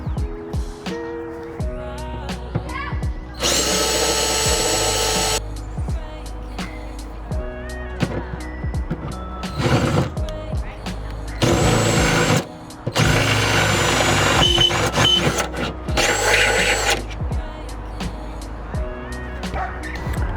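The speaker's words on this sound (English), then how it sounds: "drill a hole through the actual hatch" A power drill bores a hole through the rear hatch of a Honda Civic EP3 Si, coming in several loud, close bursts of grinding whir separated by quieter handling noises and clicks.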